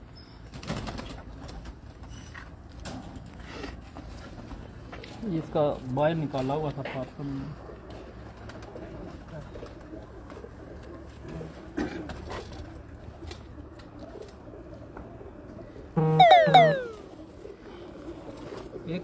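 Pigeons of a champion racing loft coo in short low bursts, one cluster in the middle and another near the end, close and moderately loud, while someone talks at intervals over a quiet background.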